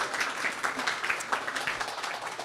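An event audience applauding its speakers in a hybrid gathering, a steady crowd of clapping hands at moderate distance, even and continuous without a break.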